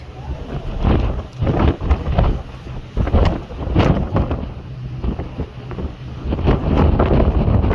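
Strong 35-knot monsoon wind roars across the Arabian Sea aboard a ship, buffeting the microphone in continuous loud gusts with rain and rushing water beneath, no talking.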